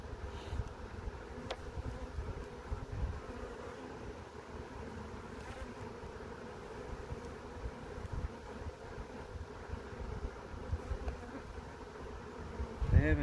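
Caught honey bee swarm buzzing during a hive inspection, a soft continuous drone of many bees close by, steady and low with occasional individual bees passing nearer.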